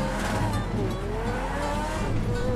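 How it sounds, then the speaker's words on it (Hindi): A car in the GTA 5 video game races at high speed, its engine roaring steadily and loudly throughout with a dense rushing hum and rising whine, no pauses. "गाइस कितनी स्पीड पकड़ेगी मुझे लग रहा है अब तो और ज़्यादा भयंकर तेज हो गई ये गाड़ी"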